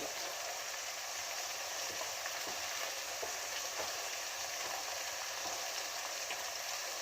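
Grated coconut dry-roasting in a pan for a Kerala prawn theeyal gives a steady, faint crackling sizzle that holds an even level throughout, with light stirring scrapes now and then.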